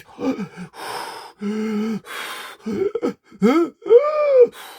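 A voice imitates wheezy, asthmatic breathing. He makes a series of strained gasps and rasping, groaning breaths in uneven bursts, close and fairly loud, with no spoken words.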